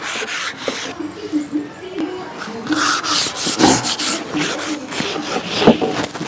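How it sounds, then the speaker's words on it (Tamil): Old teak wood being polished by hand, with close, scratchy rubbing strokes that repeat in an uneven rhythm and a few sharper scrapes. "நல்லா தேய்ச்சிட்டு நல்லா பாலிஷ் அப்ளை பண்ணணும், ஸ்மூத்தாக தேய்க்கலாம்."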